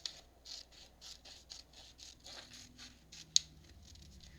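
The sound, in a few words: scissors cutting paper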